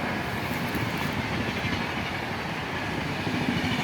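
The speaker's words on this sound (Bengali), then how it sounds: "এটা এই যে রেল আছে, দেখেন সুন্দর দৃশ্য, রেল আছে।" A train from Assam rumbles past on the railway close by, a continuous heavy roar of wagons and wheels on track that holds steady throughout.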